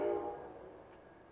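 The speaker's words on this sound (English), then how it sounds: "ooh, we have a train. Love living on train tracks." A train passes on nearby tracks, a loud, sustained low horn-like tone fading steadily into a softer rumble.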